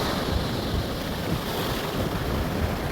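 Sea waves and wind at Perupalem beach, a steady broadband wash of surf with wind buffeting the microphone, continuous and fairly loud with no speech.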